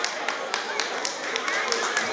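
An audience claps for the MC Alexi at YHC 2017, a run of distinct, evenly spaced claps about four per second, crisp and close, with a voice talking over them.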